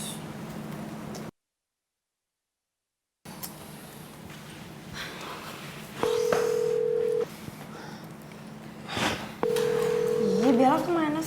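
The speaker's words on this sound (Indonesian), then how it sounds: "Kok nggak diangkat? Gue telepon." A phone call rings out unanswered in two long steady tones between gaps, with a short burst of talk at the end and a brief silent break early on.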